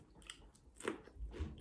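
Crunchy bites and chewing on Taco Bell crispy chicken wings, a few close, quiet crackling crunches with short pauses between them.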